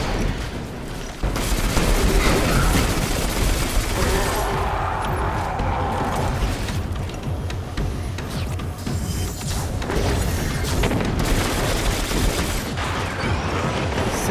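Dense gunfire and explosions from the video game Destiny during a base assault, with continuous loud bursts, booms and mechanical clatter layered throughout, easing briefly in the middle before building again.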